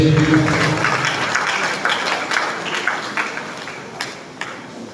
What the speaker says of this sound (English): A round of applause for resource person